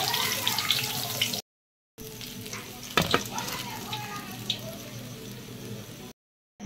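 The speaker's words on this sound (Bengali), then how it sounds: "আমি এইভাবেই ব্যাটারে চুবিয়ে ভেজে নিচ্ছি সবগুলো।" Batter-dipped cabbage spring rolls deep-fry in hot oil, a steady close sizzle and bubbling with a louder crackling spurt midway, broken by brief silent cuts.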